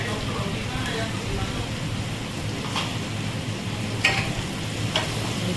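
Fish curry spices for spicy pomfret curry being stirred in a frying pan, a dense continuous sizzle with a few sharp scraping clicks of the spoon near the end.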